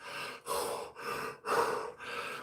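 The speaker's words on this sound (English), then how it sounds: "See me just breathing? I'm a mouth breather." Heavy mouth breathing from a person with a deviated septum during a back workout, five rhythmic breaths alternating in and out, close and fairly loud with no talking.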